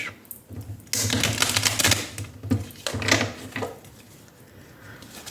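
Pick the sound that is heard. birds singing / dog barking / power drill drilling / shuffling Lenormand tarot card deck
shuffling Lenormand tarot card deck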